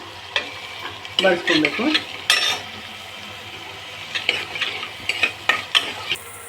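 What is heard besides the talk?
chopped onions frying in hot oil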